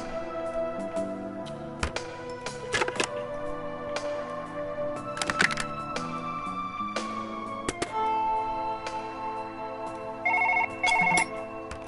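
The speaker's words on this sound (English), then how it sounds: "I got a phone call." An electronic phone ringtone trills in repeated bursts over layered game music and sound effects, fairly loud, with no talking.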